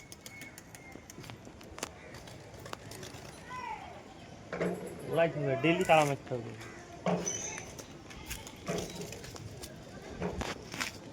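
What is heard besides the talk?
pigeons cooing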